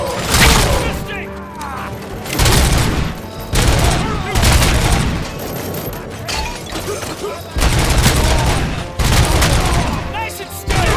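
Heavy gunfire rattles through a firefight in the RoboCop: Rogue City video game, with loud, repeated bursts and booming shots running almost nonstop, and a few shouted voice lines in between.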